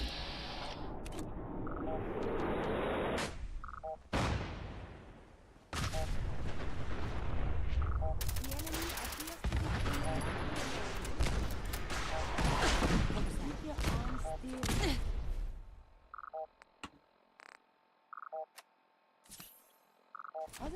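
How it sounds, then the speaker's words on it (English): Bursts of suppressive gunfire in the video game Fallout 4 crack out in sharp, loud volleys, some repeated in quick succession. A voice talks among the shots, and the scene thins to sparse clicks and quieter tones near the end. "Keep the fucking suppressive fire on."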